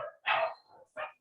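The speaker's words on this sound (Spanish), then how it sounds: "parece que el perro quiere intervenir en la clase" A dog barks during an online class: two sharp, fairly loud barks about half a second apart, with a brief softer yip at the end and no talking.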